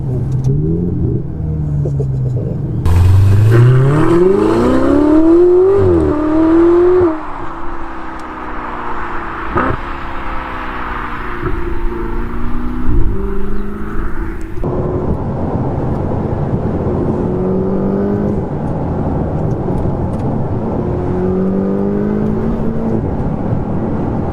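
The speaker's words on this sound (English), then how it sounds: "You can hear the turbos like, I love that." A Ferrari supercar's turbocharged engine accelerates hard past the listener, loud rising revs climbing through the gears with whooshing turbo whine, then a steady roaring drone as it continues, with no voices.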